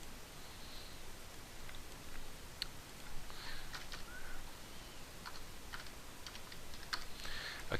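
Quiet, steady typing on a computer keyboard while entering a command at a command prompt, with irregular soft key clicks and taps through the whole stretch and no talk.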